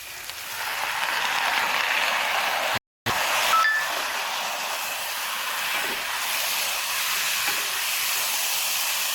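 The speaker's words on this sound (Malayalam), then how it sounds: "നമുക്ക് നമ്മുടെ ബീഫ് കൂടെ ഇട്ട് കൊടുക്കാം" A kilo of beef hits a hot pan for a Kerala-style beef fry, giving a loud, steady broadband sizzle that runs continuously except for one brief dropout.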